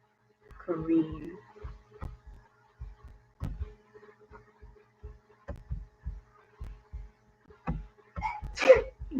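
A single sharp sneeze near the end, following a stretch of quiet thumps and soft murmuring voices in a sixth-grade classroom.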